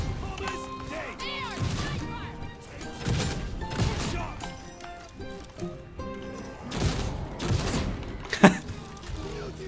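The Lawbringer Mk VI shotgun fires in a video game in several heavy bursts, with crashing impacts, clattering mechanical reloads and one sharp peak near the end, mixed with game effects and occasional talk.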